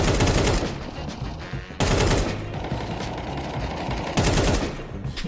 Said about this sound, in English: The guy just shooting the wall.